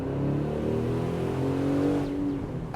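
A 2025 Aston Martin DB12 Volante's engine revs steadily and loudly up close, a deep, raspy drone with no voices over it.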